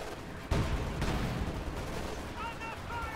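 Maxim machine gun firing in the Company of Heroes 2 video game, sharp gunfire bursts amid battle noise, with a commentator talking over it.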